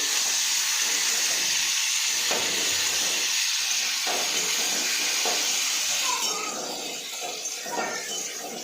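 Potatoes fry in a pan, giving a loud, steady hiss and sizzle up close that eases slightly near the end, with faint stirring clatter underneath.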